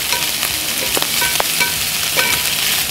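Homemade bacon frying over a live fire: a loud, continuous close-up sizzle and crackle with a few sharper pops, and no voices.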